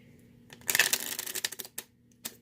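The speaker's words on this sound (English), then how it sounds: "And what you're going to do is you're going to riffle shuffle" Riffle shuffle of a deck of playing cards: a quick dense burst of crisp fluttering card slaps, close and clear, followed by a few lighter taps and one short final riffle.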